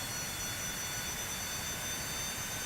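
Rocket engine throttling up in Kerbal Space Program, a steady, dense roaring rumble with a thin high whine, loud and unbroken throughout.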